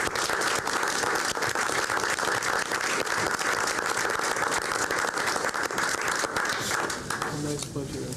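Applause at a school board meeting for the boys' track team, a steady wash of clapping from the room mixed with talk, holding throughout and easing slightly at the end.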